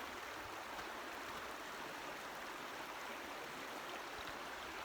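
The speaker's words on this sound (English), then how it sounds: "And now you can see the creek." A trout-stocked creek near Andrews Geyser by Old Fort, North Carolina runs beside a railroad track, producing a soft, even hiss of flowing water that holds steady at low level throughout with no talking.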